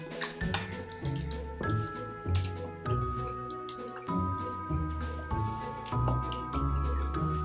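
Water dribbles into a sticky sourdough starter paste of flour and water, making repeated wet drips and squishy splashes at close range, moderately loud and steady throughout, with no voices.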